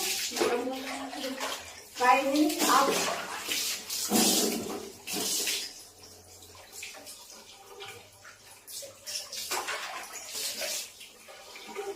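Water splashes and pours into a bath container as it is mixed for bathing, coming in uneven gushes and sloshes, with people talking over it at moderate loudness.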